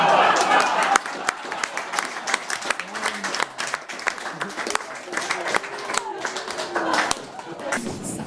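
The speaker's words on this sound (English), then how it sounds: "Now, let's give him a big round of applause." Audience applause at an event, a loud burst of clapping at first that thins into scattered individual claps and sharp taps, with people talking and crowd murmur beneath.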